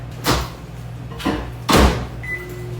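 Three quick thumps of an appliance door, a small door opened and shut, over a steady low hum, followed by a faint electronic beep.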